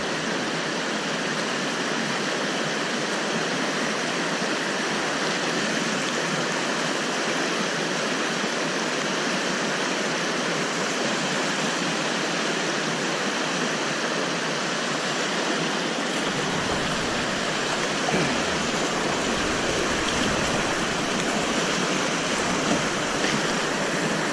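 White water on the river at Symonds Yat rushes in a dense, constant roar that fills the whole scene. A low rumble joins in near the end, and no voices are heard.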